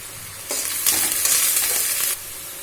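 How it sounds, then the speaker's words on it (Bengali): Garlic paste sizzles as it hits hot oil in a pan for a Bengali aar fish curry, with a loud steady frying hiss and stirring scrapes running for about a second and a half, no voices. "এবার রসুন বাটাটা দিয়ে দেওয়া হলো।"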